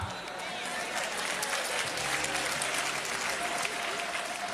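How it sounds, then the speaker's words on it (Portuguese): Applause from a church audience at a sermon event, steady and dense throughout, with a low hum and a faint voice underneath. "Aplaudam."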